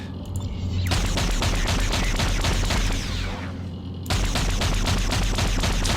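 Spaceship guns in the video game Freelancer fire in a dense, continuous rapid barrage of sharp repeated shots, loud and close throughout, briefly thinning before resuming at full intensity.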